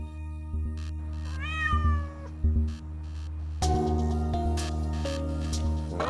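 Several young cats meow in a backyard temporary shelter, clear close calls rising and falling in separate bursts, with a louder, longer cry near the end against a steady low hum.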